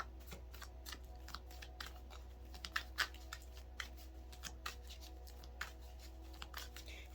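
Tarot cards are shuffled in a quiet room, giving a soft, steady run of papery riffles and light taps over a low background hum with no talking.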